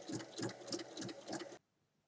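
A sewing machine runs a short line of stitches to close the small inner opening of a round-bottomed fabric bag, a rapid rhythmic chatter of needle strokes heard close, then stopping abruptly into near silence.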